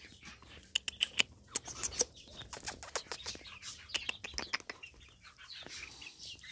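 Young game rooster and hens in a breeding pen, soft clucks and scattered short calls with occasional rustling, fairly faint and close, no talk.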